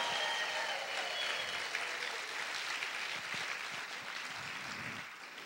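A church congregation applauds loudly during a Spanish-language sermon, a continuous wash of many hands clapping that stays fairly even and slowly eases toward the end.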